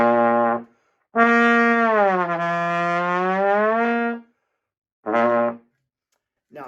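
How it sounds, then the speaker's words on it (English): Trombone notes in a full band setting: a short low tone, then a long sustained note that bends down and back up, then another short note, played alone and clear with brief silences between. "our trombone is a lot lower than our trumpet that we heard"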